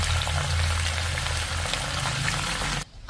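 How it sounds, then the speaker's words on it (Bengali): Green beans fry with salt and turmeric in a pan, giving a dense, even bubbling sizzle that holds steady at close range before cutting off abruptly near the end. "শিমে এবার সামান্য লবণ আর সামান্য হলুদ দিয়ে এটাকে ফ্রাই করে নেব"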